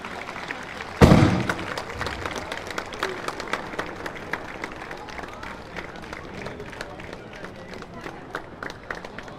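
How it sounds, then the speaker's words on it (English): A crowd at a tennis tournament in New Delhi claps for a photo op. A sharp bang opens it, then scattered, moderately loud applause carries on with individual claps standing out. "Can we have a huge round of applause for the photo op?"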